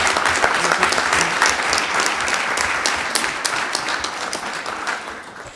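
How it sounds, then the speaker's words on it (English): Audience applause fills an MTA board meeting room: steady, dense clapping from many people, sustained at a fairly loud level throughout and tapering slightly toward the end, with no talk over it. "So I want to applaud you for that."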